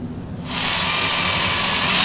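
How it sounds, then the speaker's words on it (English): A power drill boring a hole in a boat hull under the cap during carpet trim installation: a steady high-pitched whine that spins up after a short pause and holds loud and unbroken. "And I'm gonna drill my guesstimated hole."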